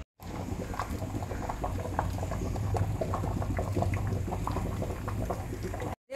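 Small prawns simmer in a pan over a raised flame for a Bengali prawn dish, giving a steady close bubbling and sizzling that holds at an even loudness throughout with no voices.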